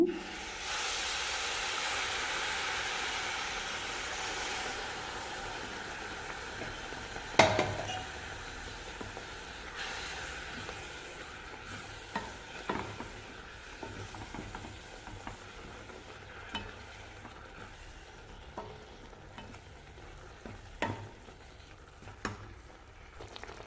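Jaggery syrup poured into grated coconut fried in ghee lets out a steady hiss that fades slowly, with an occasional clink of a pan or spoon, and no one speaks.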